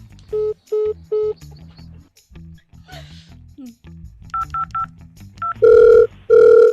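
A telephone call is placed: a few short evenly spaced tones, then a quick run of dialing beeps, then two long loud ringing tones, with quiet talk underneath.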